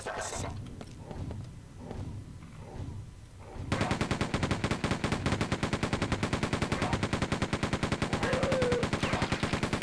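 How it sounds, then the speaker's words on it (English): Weapons fire in the video game Quake 2 as a railgun is shot at enemies, a rapid, loud, steady burst of repeated shots running continuously after a quieter opening stretch. "If you get multiple enemies lined up and shoot them with the railgun, it'll hit all of them."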